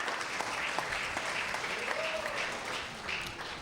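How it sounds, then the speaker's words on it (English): Warm applause from members of a provincial House of Assembly council chamber, a steady dense patter of many hands sustained throughout, with a brief tonal whistle-like sound rising midway. "I would ask if Ms. Utek would rise and receive the warm applause of the council."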